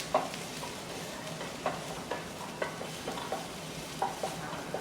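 Onions sautéing with a little salt in a pan, a soft continuous sizzle broken by light, regular spatula scrapes and taps, fairly quiet and close, with nobody talking.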